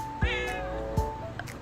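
A cat meows twice in quick succession, close and clear, with a drawn-out, rising-then-falling cry followed by a shorter one, alone without talk.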